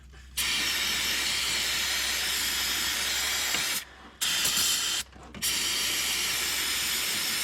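Brake cleaner hisses in a steady aerosol spray onto the exhaust manifold of a 2006 Chevy 2500 HD, a loud continuous blast broken by two short pauses near the end.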